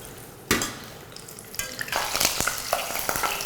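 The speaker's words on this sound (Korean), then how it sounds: "마지막에 아까 꽈리고추도 같이 튀겨주도록 하겠습니다." Shishito peppers drop into hot oil for deep-frying in a Japanese home kitchen, setting off a sudden loud sizzle that settles and then crackles and spits busily, close by.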